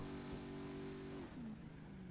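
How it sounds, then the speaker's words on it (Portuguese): A car engine in the GTA 5 video game drones at a steady pitch, then dips and shifts to a higher hum partway through, running continuously and fairly loud with no speech. "Isso aqui, mano, tá com barulho de motor, mas não tá, não tá indo pra frente."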